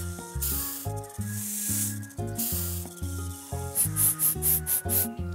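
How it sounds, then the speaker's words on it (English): Cartoon snakes hiss in a short run of bright, sharp bursts, about six in quick succession, over a bouncy animated music bed. "It's letter S's friends, the snakes."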